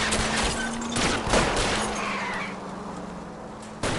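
In the L.A. Noire video game, gunfire crackles during a car chase as a burst of several quick shots rings out over a humming engine, with a final sharp shot at the end.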